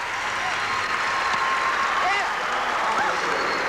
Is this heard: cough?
no